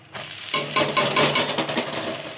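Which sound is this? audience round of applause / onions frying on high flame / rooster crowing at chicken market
onions frying on high flame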